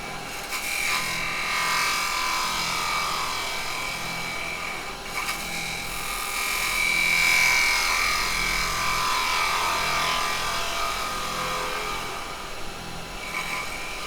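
A carbide chisel cuts pine turning on a wood lathe while shaping a plant pot, giving a continuous buzzing, whirring rasp that stays close and steady and swells slightly mid-cut.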